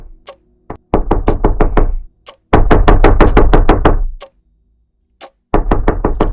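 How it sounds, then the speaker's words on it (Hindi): Knocking on a door comes in several bursts of rapid, loud, close raps, each run of a dozen or so hard knocks separated by short silences. "दरवाजे पर फिर वही दस्तक की आवाज आती है।"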